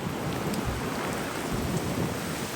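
Steady heavy rain pouring down, a dense continuous hiss with low rumbling underneath, close and loud with no voices.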